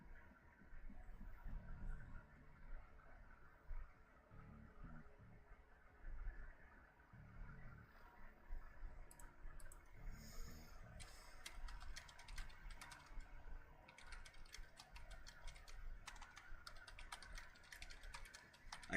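Fast typing on a computer keyboard during a live gaming stream, soft continuous clicking runs throughout, quiet and close, denser bursts of keystrokes in the later part, with no talking.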